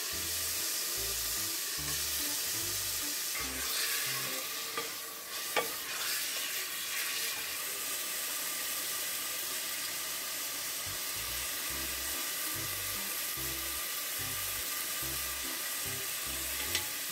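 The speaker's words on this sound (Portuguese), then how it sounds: "Aí a gente vem com o frango, deixa fritar" Chicken fries in a pan seasoned with saffron and annatto, a steady loud sizzle with clattering stirring and scraping throughout, no voices.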